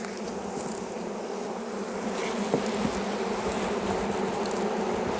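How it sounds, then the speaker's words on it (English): Bees buzzing densely around a beehive, a steady close swarm hum that holds at even loudness throughout with no talking. "So immediately you can see the numbers of bees."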